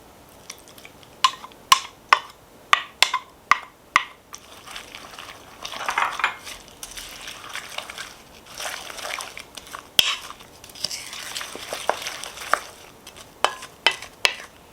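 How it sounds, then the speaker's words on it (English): Eggs being mixed into corn pudding batter in a bowl, giving a string of sharp utensil clicks and taps against the dish with softer stirring and sloshing in between, steady and close throughout. "And it says to add the eggs and mix."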